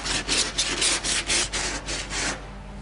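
Hardened auto body filler is sanded with 40-grit paper on a board file in about nine quick back-and-forth rasping strokes, close and loud, fading out at the end.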